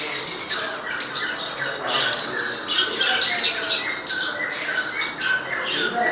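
Budgerigars in a pet bird shop in Islamabad chatter and squawk in a dense, continuous flock, many shrill calls overlapping close by with no pause.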